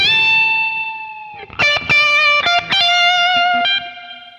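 An electric guitar with distortion and effects plays a short bluesy lick. A long sustained bent note gives way to quick, punchy picked notes, loud and close, with no talking.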